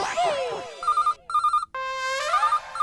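A phone ringtone plays loudly and close, a repeating electronic melody that stops and restarts, with a voice briefly over the start.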